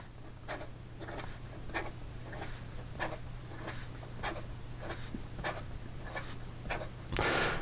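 A Montblanc M Red Signature pen writing fast on paper: a run of quick, soft scratching strokes in a steady rhythm over a low hum, ending in a louder rub, close and without voices.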